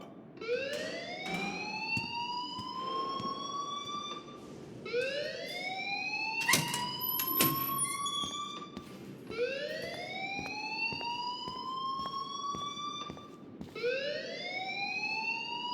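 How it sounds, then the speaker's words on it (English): A school alarm in the video game Life Is Strange, a repeating rising electronic siren wail cycling about every four seconds, loud and continuous with occasional sharp clicks. "please turn off that alarm since that's your job"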